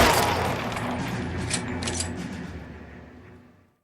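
A burst of gunfire in the crime game L.A. Noire: a dense crackle of shots that thins out and fades away to silence.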